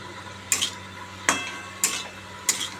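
Katla fish with salt and half a tomato being stirred in a pan, with four sharp scraping strokes of a spatula at a slow even pace over a low background hiss, and no talking.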